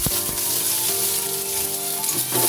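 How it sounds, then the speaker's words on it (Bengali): Onion frying in hot mustard oil with a little sugar in a wok, a close, even crackling sizzle with a couple of sharp stirring knocks at the start and faint tonal hum beneath. "পেঁয়াজটা লাল করে ভেজে নিচ্ছি"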